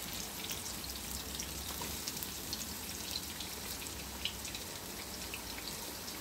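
Peppers and lovage sauté in a hot pan with a steady, close crackling sizzle and scattered pops, continuous with no talk over it.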